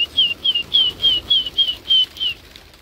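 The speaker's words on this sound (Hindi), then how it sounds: "हम कबूतरों को खोल के दाना कर देते हैं पूरा इनका" Pigeons released from their loft flap their wings in a quick rhythmic series of about eight close, loud pulses, each carrying a thin whistling tone, before the sound tails off.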